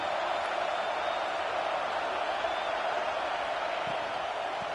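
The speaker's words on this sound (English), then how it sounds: "This crowd rising up, sensing that its defense needs some help." A stadium crowd roars steadily at a college football game, Arkansas State against Oklahoma State, a dense, sustained wash of cheering from thousands of fans, loud and continuous throughout with no single voice standing out.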